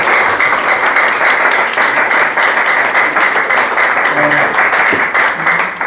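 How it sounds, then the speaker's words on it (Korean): Seminar audience applauding steadily and loudly for about six seconds as guests are introduced, a dense continuous clapping texture with faint voices beneath near the end. "여러분 박수 한번 주시죠."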